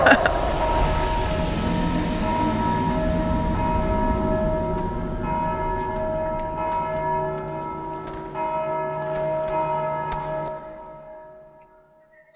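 Bells ring in the video game Dark Souls II (Scholar of the First Sin Edition), sustained resonant tolls layering and ringing on for several seconds before fading away toward the end.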